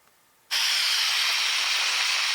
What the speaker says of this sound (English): So this is a little geothermal vent near Krafla volcano, and you get a sense it's steaming away permanently.